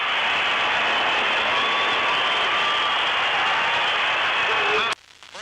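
A basketball arena crowd of 23,000 at a 1979 Kentucky versus Indiana game in Lexington roars and cheers continuously as a dense, loud wash heard over old radio broadcast audio, cutting off abruptly near the end.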